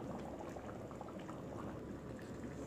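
A pot of bean curry bubbles at a steady, gentle boil, with soft, continuous popping and gurgling. The sound is quiet and close, and no one speaks.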